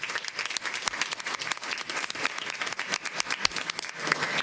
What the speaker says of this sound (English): Let's give another round of applause for Janaya.